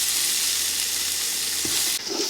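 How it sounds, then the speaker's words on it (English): Onions with salt fry in a pan, a constant close sizzle with a low hum underneath, ending with a brief clatter as the sound shifts. "Mix well and allow it to fry."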